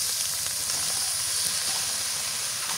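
Onion, chili and water gourd frying in a pan give a steady, even sizzling hiss, moderately quiet and unbroken throughout, with no talking over it.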